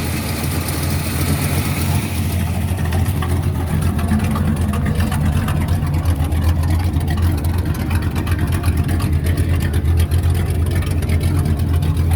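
A 1977 Chevrolet El Camino engine runs steadily just after starting, a loud, even rumbling idle that holds without pause throughout.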